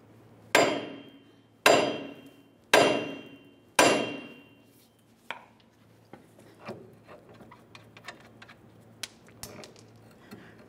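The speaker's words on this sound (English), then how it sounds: "Now we'll use a hammer down along the bottom of the knuckle where it connects to that lower ball joint." A hammer strikes a steel steering knuckle near the lower ball joint of a 2002-2007 Chevrolet, four loud, evenly spaced, ringing metallic blows followed by lighter scattered taps and clinks, with no talking.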